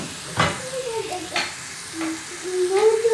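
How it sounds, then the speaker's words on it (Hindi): Grated bottle gourd (lauki) frying in ghee for halwa, a soft steady sizzle broken by several stirring strokes and a few squeaky scrapes of a spoon against the pan. "कद्दूकश की हुई लौकी, और इसको हम थोड़ा सा फ्राई करेंगे"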